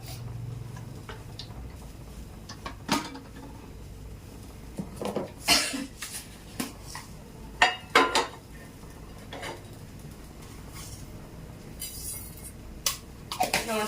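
Mustard seeds splutter and pop in hot coconut oil, scattered sharp crackles and clicks of varying loudness at irregular intervals over a quiet kitchen background.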